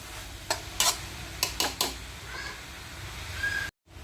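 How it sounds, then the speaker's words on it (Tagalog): Banana heart adobo is stirred in a pan, five or six sharp scrapes and clinks of the utensil against the pan in two quick groups, with a soft sizzle underneath before the sound cuts out. "Halo-haloin ulit natin."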